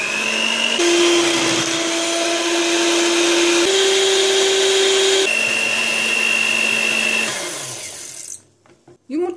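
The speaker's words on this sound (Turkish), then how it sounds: "3 adet oda sıcaklığındaki yumurtayı bir karıştırma kabına aldım. İçine bir su bardağı toz şeker ilave edip 5 dakika çırpıyorum." An electric mixer whisks three eggs with sugar in a mixing bowl, a loud steady motor whine that shifts pitch a few times before cutting off near the end, followed by a few soft knocks.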